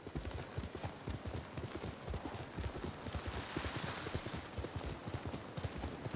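Rapid, rhythmic hoofbeats of a horse galloping steadily in the video game Ghost of Tsushima, dense and continuous over a noisy background, with a faint whinny partway through.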